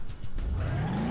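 A rally car that looks like a Mitsubishi crossed with a Subaru revs in BeamNG.drive, the engine pitch climbing steadily over about a second, loud and close, with no talking.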